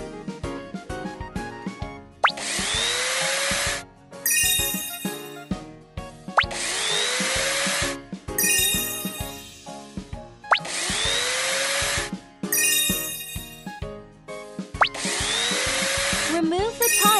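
Cartoon power tool loosening bolts in a repair shop for heavy vehicles and cars, a loud whirring buzz in four repeated bursts of about two seconds each, set between busy clanks and cartoon music.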